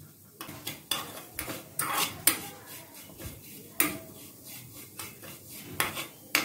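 Ingredients being fried and stirred in a pan for a traditional Bengali rural-style payesh, heard as repeated scraping and clinking of a utensil against the pan in irregular close strokes, with no talking.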